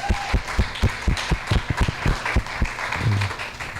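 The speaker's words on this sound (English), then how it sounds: "Another round of applause for him." A summit audience gives a round of applause after a talk, with crisp individual claps standing out close by over a fuller crowd of clapping, tapering near the end.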